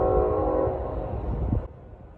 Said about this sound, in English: There's a train coming as soon as we got here.